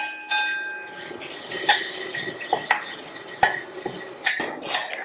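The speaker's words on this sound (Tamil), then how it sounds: "அதுல ஒரு கப் திக்கான அவலை சேர்த்துட்டு மிதமான தீயில வச்சு இந்த அவல் நல்லா சூடேறி மொறு மொறுன்னு வர வரைக்கும் வறுத்துக்கலாம்" Thick flattened rice (poha) dry-roasts in a pan over medium heat, heard as sharp metallic clinks and scrapes of a spoon against the pan at irregular intervals, close by, with faint rustling in between and no speech.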